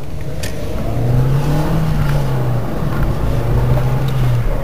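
A car drives along a road, its engine a steady, fairly loud low hum with a gently shifting pitch, heard close from inside the vehicle with no talking.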